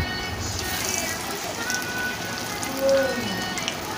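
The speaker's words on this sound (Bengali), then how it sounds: "একে একে আমি ভেজে নিচ্ছি সবগুলো" Pumpkin chops frying in oil, made in place of aubergine: a steady, even sizzle with fine crackle runs throughout, close and continuous with no talk.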